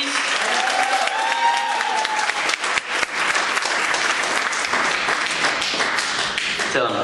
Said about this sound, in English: A warmer applause, please.